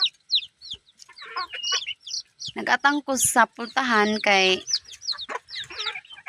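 Chickens clucking and a rooster-like call rise between bits of nearby speech, the bird sounds loud and close in the middle stretch.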